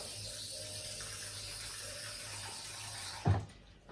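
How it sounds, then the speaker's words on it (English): Tap water runs steadily while rinsing a food processor in a sink, a soft continuous hiss, ending with a short clatter as something is set down. "Okay, so I'm going to rinse this processor."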